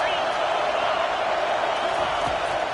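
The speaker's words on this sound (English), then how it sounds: "Listen to this crowd just shaking the girders of this place, trying to help their defense." Stadium crowd roaring in an American football video game, a dense sustained wall of cheering noise with no breaks, heard at fairly close range.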